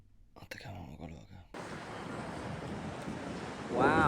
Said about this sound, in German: Wow, ich glaube, es windet viel zu fest